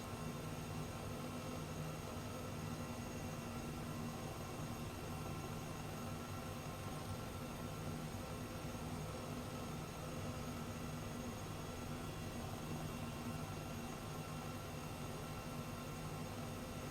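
Airbus H135 helicopter cruising in Microsoft Flight Simulator 2020, a steady, even cockpit drone of turbine and rotor that holds unchanged for the whole stretch with no voices over it.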